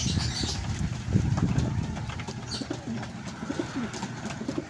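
Racing pigeons coo softly while feeding amid a low, busy murmur of birds and light pattering, with no voices.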